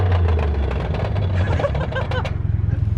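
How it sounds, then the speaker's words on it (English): A turbocharged Nissan 180SX (S13) with a damaged gearbox rumbles with a rough, throbbing engine note, loud and close, pulsing unevenly near the end as it drifts, with brief mechanical clunks and no talking. "Something is missing in the gearbox, I think. It sounded like that."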